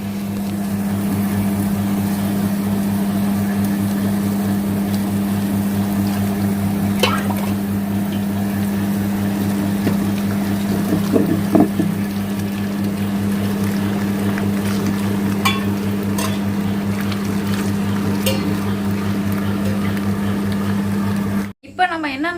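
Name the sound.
wet grinder grinding rice into batter for idli and dosa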